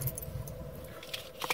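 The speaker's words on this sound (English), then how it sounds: "I'm trying to find the car keys and I have a feeling I don't have them." Car keys jangle briefly and softly near a motorhome, giving a few light metallic clinks, with the brightest rattles at the end of the short moment.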